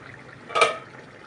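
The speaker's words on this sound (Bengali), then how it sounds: "আমি ঢাকাটা খুললাম" A lid lifted off a pot of slow-cooked, tender meat gives one brief metallic clank and scrape of pot and lid, near and clear over a quiet kitchen background.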